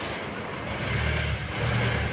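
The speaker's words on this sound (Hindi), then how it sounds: "गाड़ी उनकी गाड़ी आ गई बच्चों की।" A children's school vehicle pulling up, its engine a loud, close, steady rumble that swells slightly as it arrives.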